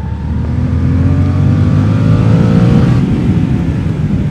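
Suzuki GSX-8S motorcycle with an 80 horsepower engine pulling hard in third gear, a loud, steady engine note whose pitch climbs smoothly as the throttle is rolled on, close to the rider.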